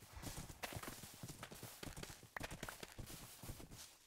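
Horse hooves clip-clop in a block-building video game, a quick, steady run of close, crisp hoofbeats that carries through the whole stretch with no other sound competing.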